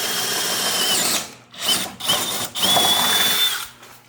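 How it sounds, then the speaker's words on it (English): A power drill whines in several bursts with brief pauses between them, drilling out a welded metal mount on a Jeep Cherokee. It sounds close and loud, with high-pitched grinding as it bites into metal. "now Patrick is drilling it out"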